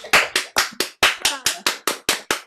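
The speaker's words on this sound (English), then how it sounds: "let's give some applause to Susanne now" Participants on an online call clap in a quick, evenly spaced rhythm of about ten sharp claps, close and fairly loud, with no voices over them.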